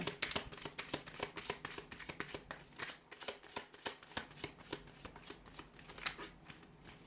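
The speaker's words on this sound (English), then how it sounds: "Let's give the cards a shuffle" Close, steady riffling of a deck of tarot cards being shuffled, rapid crisp flicks in repeated bursts with no talking.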